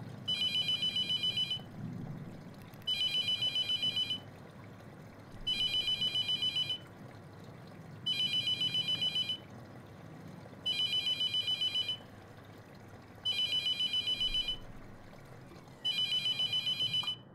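A telephone rings inside The Mortuary Assistant horror game, seven evenly spaced double-trill bursts of a bright electronic bell over a low, murky room hum, with no one speaking.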